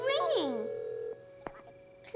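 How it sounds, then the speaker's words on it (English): A telephone ringing in a children's cartoon: a steady electronic ring tone follows a short burst of a voice, with faint clicks, heard clearly and close. "It's ringing."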